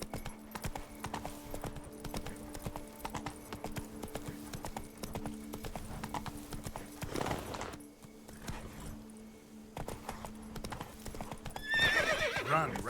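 In The Witcher 3, a horse gallops with fast, rhythmic hoofbeats throughout, punctuated by a loud neigh near the middle and another near the end, set against game background sound.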